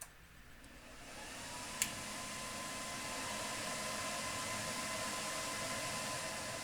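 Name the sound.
amplifiers powering up, noisy hum in the background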